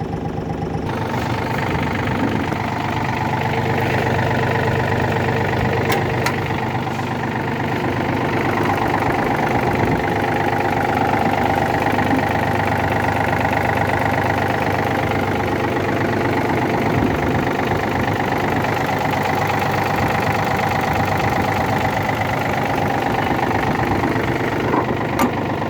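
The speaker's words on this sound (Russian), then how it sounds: "Пойдемте посмотрим, как работает двигатель." A Yanmar AF230 mini tractor with a cab runs its diesel engine at a steady, slightly knocking idle, loud and close, for the whole stretch with no talking.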